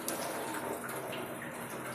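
Thinly sliced vegetables being rinsed in a basin of water, with a steady, close sloshing and splashing wash of water throughout and no talking.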